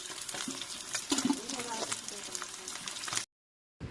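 Koi fish sizzle and crackle in hot oil in a pan as the pieces are turned over one by one, with a soft clatter partway through and someone speaking over the frying.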